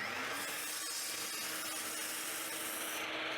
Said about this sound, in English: While I'm at the miter saw, I'm going to cut down all my back pieces as well.